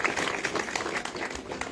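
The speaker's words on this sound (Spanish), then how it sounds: "Aplausos a nuestro Señor Jesucristo." Wedding guests applaud inside a church in Cuá, Tacaná, San Marcos, producing a dense, steady patter of clapping at moderate loudness, with a faint voice in the background.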